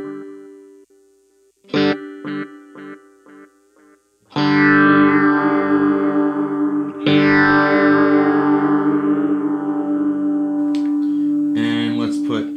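A Line 6 Variax guitar played through a Helix with delay gives a few short plucked notes, then loud sustained distorted chords that ring out with trailing echoes, with no talking over the playing.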